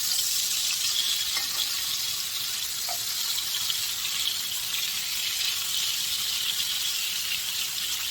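Steak frying in a pan gives a steady, loud broadband sizzle that holds evenly throughout with no pauses, heard close up and with no voices over it.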